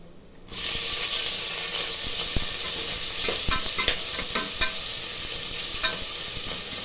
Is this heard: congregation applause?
no